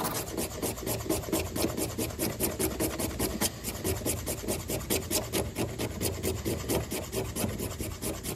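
A piece of glass is scraped rapidly back and forth along fatwood as an improvised scraper, giving a close, continuous rasping texture of quick repeated strokes with no speech.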